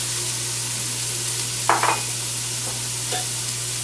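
Onion dropped into a hot Instant Pot on its sauté setting gives a short burst of sizzling, then a fainter crackle, over a steady hum from the appliance.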